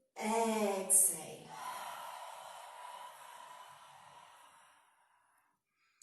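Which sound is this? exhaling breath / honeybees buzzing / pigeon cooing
exhaling breath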